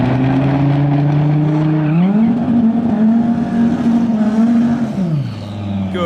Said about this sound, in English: You ever want to see a McLaren do a burnout?